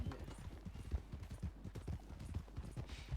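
Horse hooves in a video game, an untrained horse: a steady, quick clip-clop of many soft hoofbeats in a regular rhythm, faint and without talk.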